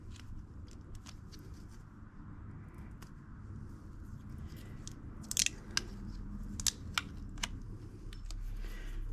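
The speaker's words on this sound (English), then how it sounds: "So what I'm going to do is cut a couple of strips." Scissors or a blade cutting strips of repair tape for a ripped tent floor, a few sharp snips and crunches standing out over a low background hum, fairly quiet and close.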